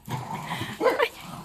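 Small dogs yip and bark in short excited bursts while running around their little house, with a voice calling out in between.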